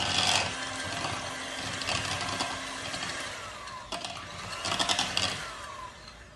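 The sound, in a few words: kitchen mixer mixing cinnamon swirl bread ingredients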